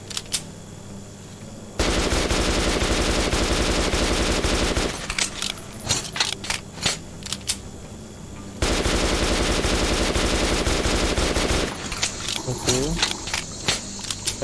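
Machine-gun fire in the video game Metro 2033 Redux: two sustained, loud automatic bursts, separated and followed by scattered single shots and clinking metallic clatter.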